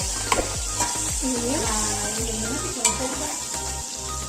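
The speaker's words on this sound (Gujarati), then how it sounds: "થોડું લસણ કકડવા દો." Garlic and green chillies sizzle in hot oil in a pan for dal, a steady close crackle with a spoon scraping and stirring in a repeated rhythm, plus a couple of louder clinks.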